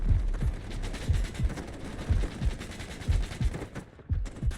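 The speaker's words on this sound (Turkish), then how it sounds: "AR-15 balım nasıl vuruyor ama?" AR-15 rifle fire in the Delta Force video game, a rapid series of punchy shots in bursts, about a dozen reports spread steadily across the span with mechanical clatter, fairly loud.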